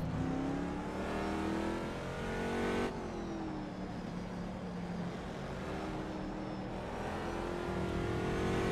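A Corvette C6.R GT2 race car engine in the rFactor 2 simulator, revving loud and close through rising gear pulls, with one sharp upshift and sustained high-rpm drone, no talking.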